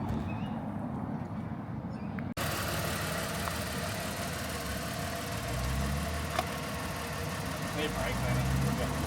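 A Ford BA XR6 Falcon's engine drones steadily at close range, a continuous low rumble that thickens after a brief thump early on and holds at an even level throughout.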